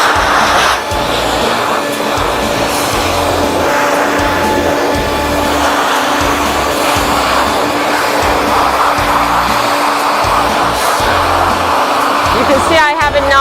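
A pet force dryer roars continuously at close range while blowing out a dog's coat during grooming, a loud steady airy whoosh that never lets up.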